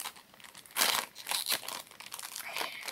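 A small plastic blind-bag packet is torn and crinkled open up close, with sharp crackling bursts and rustling that continue through the whole stretch, and no talking.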